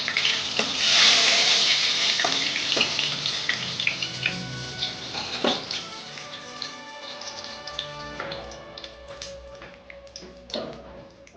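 Bay leaves and dried red chillies hit hot oil with a soft, steady sizzle and some light clatter, moderately close and fairly quiet, slowly fading.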